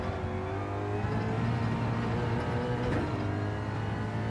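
A Toyota Supra race car in the Gran Turismo 7 video game holds a steady, loud engine drone with whining harmonics at speed, and a faint brief knock partway through, with no talking.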